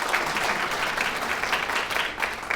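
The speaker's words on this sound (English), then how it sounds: "give them a round of applause" Steady applause from a city audience at a State of the City address fills the space at an even, sustained level, dense clapping without a break.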